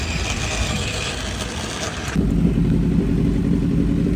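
A 1000cc motorcycle runs on a dyno with a steady, loud engine drone that drops abruptly halfway through into a lower, heavier rumbling tone, close up and continuous with no voices.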